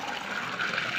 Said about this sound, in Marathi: आता नळाला पाणी आले, देवाचा तांब्या भरून घेतो.